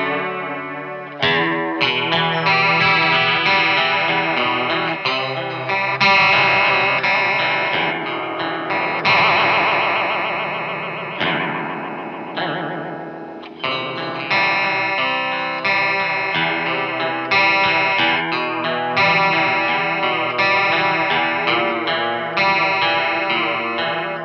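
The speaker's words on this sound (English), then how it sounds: "A very, very usable chorus." An electric guitar runs through the chorus setting of a Coolmusic Modulator pedal, playing shimmering, wavering chords and phrases up close for over twenty seconds, each strum swelling and decaying, with no talking.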